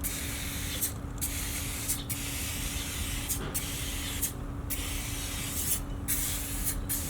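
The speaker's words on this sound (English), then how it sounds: "We'll spray the ash pan just quickly." Aerosol spray hisses into the ash pan of a Stumps Junior smoker, several sustained bursts separated by short pauses, close and steady.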